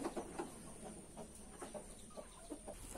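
Hen clucking inside a chicken coop where eggs have just been laid, a run of short, repeated clucks at close range, steady and moderately loud, with no voices.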